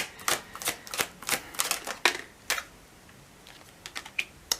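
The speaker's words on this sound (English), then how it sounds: "let's go ahead and shuffle these up a little bit more" Crisp clusters of flicking, riffling clicks come in quick bursts, pause, then resume softly, like cards being shuffled close by.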